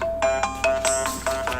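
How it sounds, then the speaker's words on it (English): A timer goes off with a ringtone-like electronic chime, a quick repeating pattern of bright beeping tones sounding several times in a row at close range. "That's the timer!"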